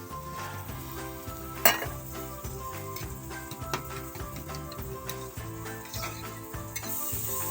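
A ground spice paste hits hot oil in a pan for a tangra fish curry, giving a steady sizzle and frying crackle that lasts the whole time, with one sharp clink of a utensil near the start.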